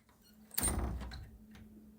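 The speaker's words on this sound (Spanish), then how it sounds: "la puerta pesada se cerró con un golpe seco." A heavy door slams shut as a sound effect in a Spanish audio story, a single dull thud with a brief rumbling tail, quiet and alone.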